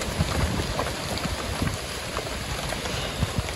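Heavy rain pours down in an open rural field onto a leaky makeshift shelter, a dense steady hiss with scattered drops pattering close by, with no talking.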